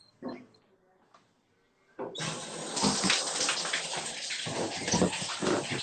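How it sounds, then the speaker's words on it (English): A cold shower turns on abruptly after two quiet seconds with a few faint bumps, then sprays water in a loud, steady, close hiss that runs unbroken to the end. "Cold shower, baby."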